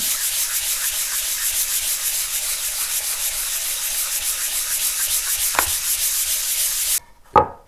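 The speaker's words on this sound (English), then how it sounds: "I'm just going to take a 240 grit pad. I'm just going to put it on a small block." A guitar neck and body are hand-sanded with a 240-grit pad on a cork-faced block, giving steady, close, rhythmic scratchy strokes that run continuously before stopping abruptly, followed by a brief knock.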